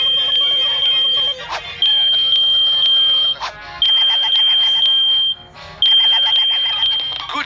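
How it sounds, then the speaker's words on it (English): A smoke alarm sounds when its test button is pushed, giving a loud, piercing high-pitched beep in repeated long pulses, about four bursts separated by short gaps, with no talk over it. "Push the test button to see if it's working."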